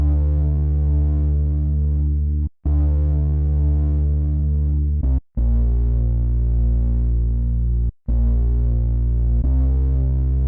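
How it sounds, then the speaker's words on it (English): A gritty synth bass plays sustained low notes, loud and buzzy, with brief gaps between phrases and no other instruments or voices. "Lastly, I added a nice gritty bass to put in the intro and the choruses."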